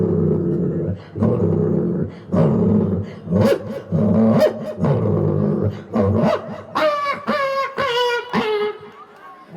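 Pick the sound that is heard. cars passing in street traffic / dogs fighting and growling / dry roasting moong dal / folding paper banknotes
dogs fighting and growling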